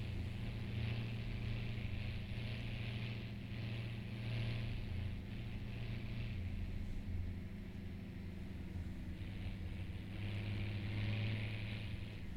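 The engine of an MB-Trac 1100 tractor, 175 hp, drones and revs in the farming video game Landwirtschafts-Simulator 17, a steady low rumble with gentle rises in pitch, continuous throughout.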